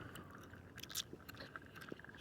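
Gum being chewed for a long while, with soft, wet, squishy mouth clicks and smacks close to the mic, irregular and quiet throughout.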